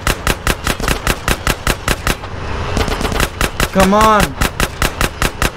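Rapid, loud automatic gunfire from GTA San Andreas pounds in a steady stream of evenly spaced shots, pausing briefly mid-way while a voice speaks, then resuming at the same fast rhythm.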